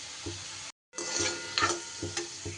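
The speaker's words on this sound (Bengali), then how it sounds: "এইভাবেই আলুগুলোকে ভেজে নিতে হবে।" Potatoes fry in hot oil while being stirred, giving a steady close sizzle broken by a brief silent gap and several soft scraping knocks of a utensil against the pan.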